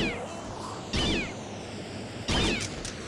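A cat in Postal 2 lets out two sharp, loud meows as it is thrown, with a faint wail between them over game background noise.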